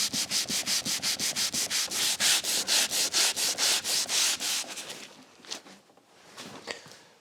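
Green abrasive pad rubbed back and forth on an old furniture finish, close and loud, with about two dozen quick even scrubbing strokes that stop after a few seconds, followed by a few faint knocks and shuffles.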